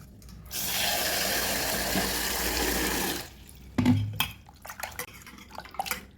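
Peeled aloe vera is washed in water, giving a few seconds of steady splashing and rinsing. Close, sharp clinks and knocks of utensils and a vessel follow, and no one speaks.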